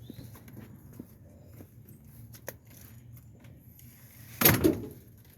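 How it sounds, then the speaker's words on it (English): A garden door is unlocked and opened, faint clicks and light handling first, then a loud scraping swing near the end, close by over quiet outdoor background. "Hopefully this door is unlocked."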